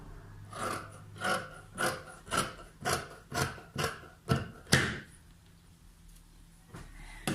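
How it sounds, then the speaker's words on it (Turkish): Scissors cutting through the hem of a dress: about ten rhythmic rasping snips in a row, close and clear, then a quiet pause with one last faint snip. "Etek ucunu kesiyorum"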